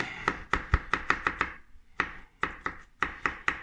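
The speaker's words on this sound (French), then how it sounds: "Là, on continue à tailler vraiment tout fin, tout fin" Knife finely chopping pickles and other mayonnaise ingredients on a board: quick close rhythmic thuds in bursts, a run of about eight cuts, a pause, then two shorter runs.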